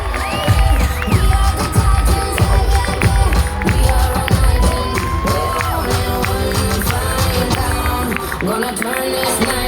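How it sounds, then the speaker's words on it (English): An audience in a room cheers and whoops with scattered clapping, loud and close, mixed with busy background music and voices. "Guys, can you please give Annie a huge round of applause?"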